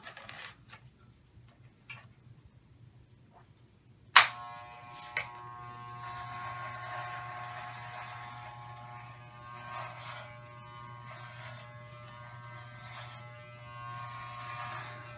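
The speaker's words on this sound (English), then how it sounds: "So I'm gonna have to shave it just to see how it works." An electric shaver switches on with a sharp click and runs as a steady, close buzzing hum while it shaves hair, with a second click shortly after and faint rustling in the quiet room before it starts.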